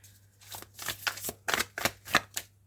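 A deck of oracle cards is shuffled close by, producing several quick riffling bursts in a steady rhythm, fairly quiet over a low constant hum.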